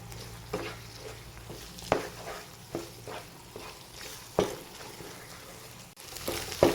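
Potato egg bhurji is stirred in a pan over medium flame, a soft sizzle running underneath while a spoon scrapes and knocks the pan every second or so.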